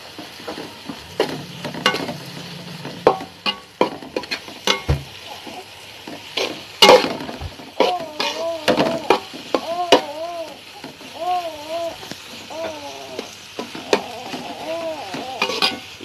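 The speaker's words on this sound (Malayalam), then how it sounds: "നല്ല നന്നായിട്ട് വഴ വഴറ്റി വാട്ടണം കേട്ടോ" Chicken and masala being stirred and sautéed in a pan, with close scraping of a spoon against the pan and soft sizzling, interrupted by a voice speaking and a short melodic voice sound partway through.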